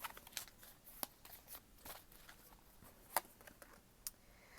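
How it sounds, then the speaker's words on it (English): Gypsy tarot cards shuffled by hand, a quiet, intermittent papery riffle broken by a few sharp little snaps of cards settling, close and faint with no talking. "I'm going to shuffle up these gypsy cards"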